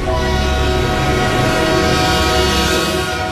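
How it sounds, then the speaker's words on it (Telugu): A train approaches at a railway line, its loud horn sounding continuously with sustained tonal blasts over rumbling wheels and engine noise, steady and close throughout. "లేమ్మా, ట్రైన్ వస్తుంది."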